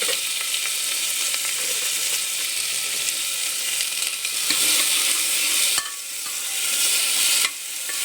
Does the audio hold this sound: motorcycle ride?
no